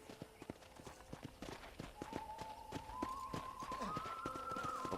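Horse hooves clip-clop at a steady riding rhythm in the Western game Red Dead Redemption, moderately loud over a soft background hum that rises into a sustained tone partway through.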